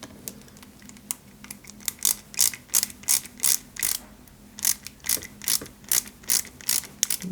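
Small screws being driven into a Lancia 037 scale model kit, a close series of rapid ratcheting clicks in short bursts with pauses between, no voices.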